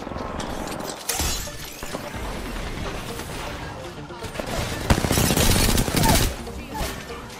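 Gunfire in a Rainbow Six Siege match: bursts of rapid automatic shots with sharp, shattering impacts, loud and close, under excited talking between players.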